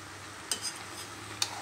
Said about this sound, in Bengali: তো একটু নাড়াচাড়া করে নিচ্ছি আমি